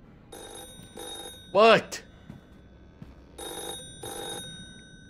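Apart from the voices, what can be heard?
lantern ringing like a phone in Roblox horror game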